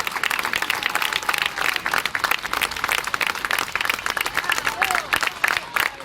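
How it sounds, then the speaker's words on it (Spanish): A crowd gathered at a rally in a plaza breaks into sustained, loud applause, dense clapping continuing steadily throughout with scattered cheers and voices mixed in. "Fuerte y renovado el aplauso."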